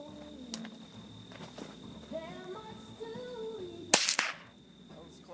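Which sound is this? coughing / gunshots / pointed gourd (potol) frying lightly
gunshots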